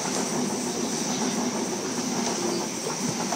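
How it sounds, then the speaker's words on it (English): A Sydney Trains Oscar set runs express past platform 2 at Como station on a Kiama service, giving a steady, loud rolling rail roar with faint clickety-clack that holds evenly throughout. "We have an Oscar passing platform number 2, Kiama service, express"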